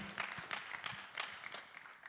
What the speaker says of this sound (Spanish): big applause to the Lord for His word